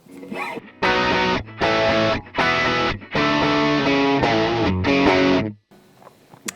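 An electric guitar plays a heavily distorted low bass tone through a ToneX amp capture, several loud chugging chord bursts separated by short gaps, clean and up front before cutting off into near silence.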